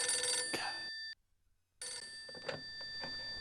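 Telephone ringing in the horror adventure game Phantasmagoria 2, two electronic ring bursts separated by a brief silence, clear and fairly close with no talking.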